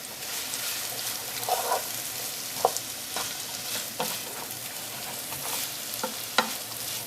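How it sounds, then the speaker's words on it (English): Onions and red pepper softening in a frying pan for chilli con carne: a steady, fairly quiet sizzle with occasional crackles and pops and light stirring, and no voices. "I've softened the onions now and the red pepper"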